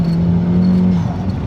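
A turbocharged Chevy Cruze accelerates hard, its engine droning loud and close from inside the cabin with a steady low tone that rises slightly, and no voices are present.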